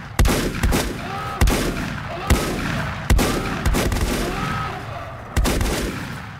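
Shotgun fire in the video game Volcanoids: seven sharp, booming blasts spaced irregularly about a second apart, each with a short decaying tail over a low background hum.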